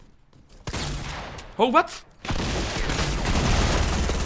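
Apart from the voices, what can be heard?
double-barrel shotgun firing in the video game Fortnite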